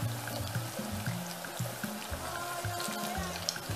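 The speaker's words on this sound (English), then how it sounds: "And then you deep fry it. Drop it in one at a time, one by one," Cocoyam slices deep frying in hot cooking oil give a steady, bubbling sizzle like trickling water, continuous throughout, with low background music underneath.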